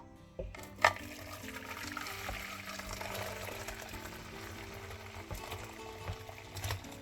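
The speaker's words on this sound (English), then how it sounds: "I'm pouring out everything." Jamaican sorrel drink is poured from a pot into a plastic container, giving a soft, continuous liquid pour and trickle after a brief clunk, fairly quiet and steady, with no talk over it.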